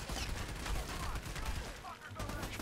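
Rapid bursts of gunfire from several weapons in the Army of Two video game, dense and continuous throughout, with a player's voice talking over the shooting.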